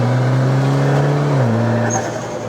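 A Mitsubishi Lancer converted to EVO 10 spec accelerates hard from inside the cabin, its loud engine droning steadily with a clear gear-shift drop in pitch partway through, no talk over it.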